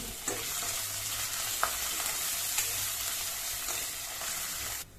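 Green chillies, curry leaves and whole spices (cloves, peppercorns, star anise and cardamom) sizzle in a hot pan as they are stirred, a steady close frying hiss with light scraping strokes that cuts off abruptly at the end.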